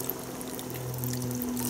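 Carnation evaporated milk pours steadily from a can into a large cooking pot of macaroni ingredients, a continuous soft liquid gush close by with no talking.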